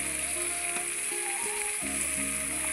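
Boiled bottle gourd with turmeric powder and salt is stirred in a pan under a steady sizzle, with soft scrapes and knocks of the spoon against the pan recurring close up.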